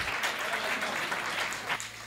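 A crowd at a Hindi comedy poetry gathering breaks into loud, continuous clapping that stays steady and then tapers slightly at the end.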